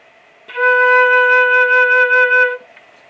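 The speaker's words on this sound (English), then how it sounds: "So on the flute, it sounds like this." One sustained flute note, a B natural, held about two seconds, close and steady with a clear, pure tone and a soft start and release, played alone with no voice over it.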